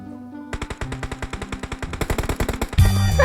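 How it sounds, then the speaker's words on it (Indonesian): Rapid automatic gunfire in the mobile battle royale game PUBG Mobile, a rhythmic burst of dozens of sharp shots at a steady clip, ending in a louder, harsher blast, with no talking over it. "Dari sana kok tembakannya kencang lo"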